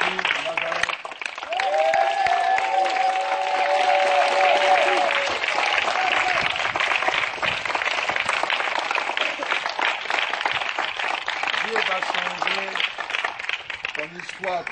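A church congregation applauding and cheering a prophet, sustained crowd clapping beneath a loud voice speaking over it throughout.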